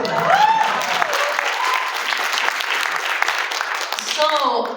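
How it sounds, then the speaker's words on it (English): Audience applause at a political annual meeting's Senate candidate interview, a dense, moderately loud burst that holds steady, with a few voices speaking over the start and end. "Thank you, an applause for that."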